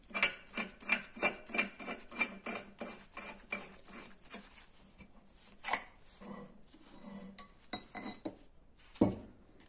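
Metal pipe parts of a venturi gas burner being screwed together, a series of close, rhythmic scraping and grinding thread turns, followed by scattered clinks and knocks of metal handling, quiet and without voices.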